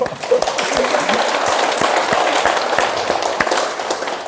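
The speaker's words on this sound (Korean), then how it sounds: "박수 한번 쳐주세요." Audience applause during a Korean talk on hwadu Seon meditation, a dense steady patter of many hands clapping that holds at an even level for several seconds with no voices on top.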